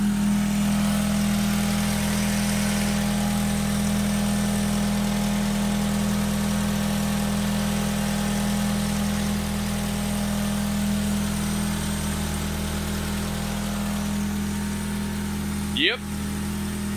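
A Mazda Miata engine idling after a coil-on-plug install, a steady, loud, close low hum with even rhythm and no stumbles, ending in a brief click.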